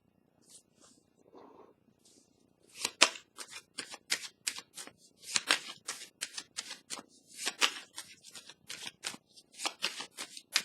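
A tarot card drawn from a deck: a few soft rustles first, then a long run of crisp, rapid card riffles and flicks in quick irregular bursts, close and clear in an otherwise quiet room.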